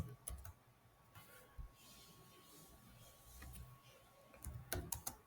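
Keyboard typing while entering code for a for loop, scattered sharp key clicks in short bursts over a faint steady hum, quiet and close, no talking.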